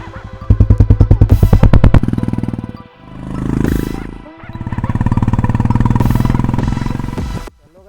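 A BS6 motorcycle fitted with a K-Indori silencer revs up and idles, its exhaust giving rapid loud popping pulses, then repeated throttle blips that swell and fade, very close to the exhaust.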